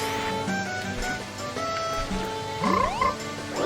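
A frog character in the Majora's Mask video game croaks once with a loud rising warble over steady in-game background music, followed by a shorter second croak.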